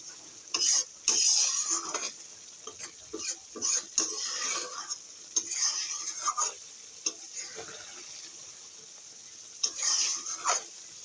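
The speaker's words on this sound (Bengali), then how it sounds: "ধনে পাতাটা ভালোভাবে ভর্তার সাথে মিশিয়ে নিলাম।" Chopped coriander leaves being stirred into a chicken bharta mash in a bowl, with soft irregular scrapes and clicks of a utensil, close and fairly quiet, no voices.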